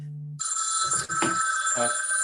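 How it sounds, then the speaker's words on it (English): A mobile phone rings during a technical talk, its electronic ring tone sounding in repeated bursts while someone speaks over it. "Let me turn off my phone."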